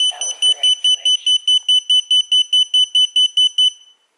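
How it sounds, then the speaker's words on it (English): A Leader 120 drone disconnected from its transmitter gives a loud, evenly spaced run of sharp electronic beeps, about fifteen in quick succession. A brief voice sounds at the very start, then the beeping stops and silence follows. "if it's disconnected from the transmitter, it usually beeps"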